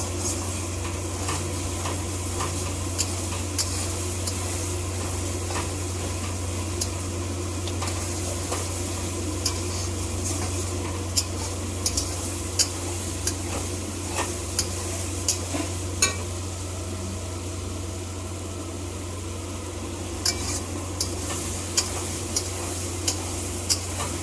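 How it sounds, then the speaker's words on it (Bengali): Masala cooked down in oil sizzles steadily in a pan as water is added, with sharp ticks and scraping stirs scattered across a long stretch under a constant low hum, close by and moderately loud. "এবার এর মধ্যে জল দেবো।"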